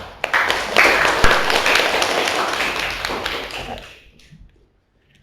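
A class of students in an Islamic religious education lesson applauding, a loud burst of close clapping that continues steadily for several seconds, then stops abruptly into near silence.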